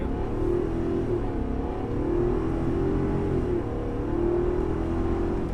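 A 2021 Ford F-250 Super Duty pickup with a 7.3L V8, Tremor trim, accelerates in a steady, loud drone from inside the cab, its engine note rising and falling in two or three long swells with no one talking.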